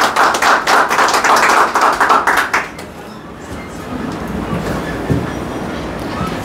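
Audience clapping for a hair-cutting certificate presentation at a Bangladesh ceremony, a dense burst of claps for about two and a half seconds that then stops, leaving quiet room tone.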